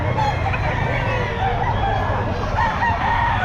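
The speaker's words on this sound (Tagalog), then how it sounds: "Ang laki ng manok na to." Rooster crowing at the Bocaue pet market in the Philippines on a Friday, a large ten-month-old bird, with continuous loud fowl calls amid market bustle and low background noise throughout.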